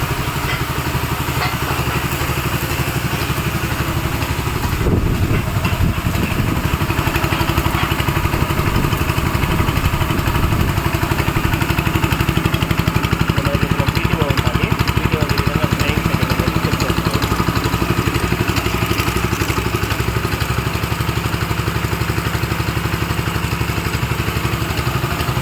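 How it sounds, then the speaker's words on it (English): A Honda GX 200 engine drives a power weeder fitted with a high-pressure HTP sprayer, running loud and steady with a rough mid-pitched drone and clatter, a brief bump in load around the fifth second. "So ఇది spraying setting Honda GX 200 ఇంజన్కి."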